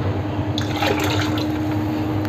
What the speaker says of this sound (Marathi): पाणी घालायचं आहे।